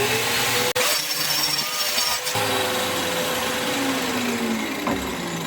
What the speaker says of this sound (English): just get the grinder back out, start the dust collector back up